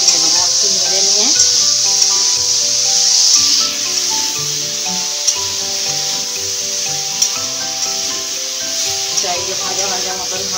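Potatoes with a dash of turmeric fry in a pan for a vegetarian aloo posto, giving a constant bright sizzle with scraping stirs and occasional clinks of the spoon.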